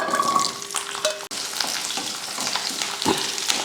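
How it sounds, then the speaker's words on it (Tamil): Garlic cloves and small shallots sauté in a pan with a dense, continuous close sizzle and crackle, steady in level with a brief dip and a few stirring scrapes. "பூண்டு வெங்காயம் வதங்கினதுக்கப்புறமா புளி சேர்த்துடலாம்"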